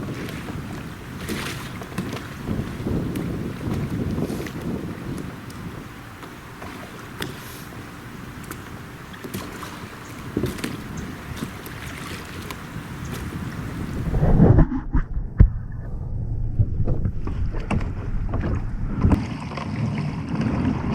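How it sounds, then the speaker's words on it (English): A Riot Mako 12 pedal kayak moves across open water with a steady, loud swish of water and wind buffeting the microphone. The sound shifts and grows rougher partway through, and no one speaks. "So pedaling the Mako 12 is very easy, and as you can see, it picks up some decent amount of speed with very minimal pedaling effort."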